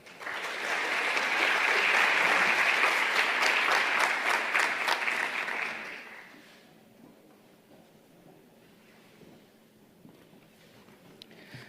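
Warm audience applause at a climate justice summit greeting a speaker, a full burst of clapping for about six seconds that then fades out to quiet room tone.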